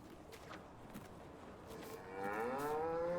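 Cows low inside a cow barn on a Farming Simulator 19 map, one drawn-out moo swelling up near the end over faint ambient farm noise.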